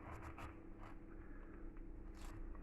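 A knife cuts the stem out of a pineapple, producing quiet, close scraping and crunching strokes in short bursts over a low background hum.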